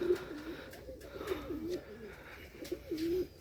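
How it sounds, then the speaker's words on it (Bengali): A pair of Bangla pigeons cooing close by, low throaty rolling coos repeating in a few phrases over about three seconds, with a faint background hum and no talking. "বাংলা কবুতরটা ওই জায়গায় ডাকাটাই করে"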